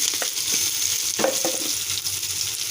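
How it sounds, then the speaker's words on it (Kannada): A coarsely ground tomato mixture goes into a pan of hot tempering for tomato bath, setting off a loud steady sizzle and frying crackle with a few stirring scrapes, close up and with no talking. "ಇವಾಗ ಒಗ್ಗರಣೆಲೆಲ್ಲ ಬೆಂದಿದೆ ಅದಕ್ಕೆ ರುಬ್ಬಿರ್ತಂತ ರುಬ್ಬಿರ್ತಕ್ಕಂಥ ಮಿಶ್ರಣ ಇದ್ದೀನಿ"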